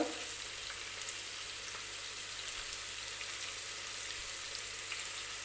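Sliced onions and whole spices, bay leaf, cinnamon, cloves and cardamom, frying in oil for a mutton biryani, giving a steady, even, faint hiss with light crackle throughout and no voices.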